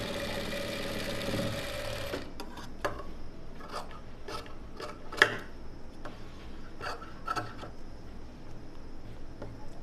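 A sewing machine stitching along the front of a blouse gives a brief steady whir, then stops; scattered light clicks and fabric rubbing follow as the cloth is handled up close.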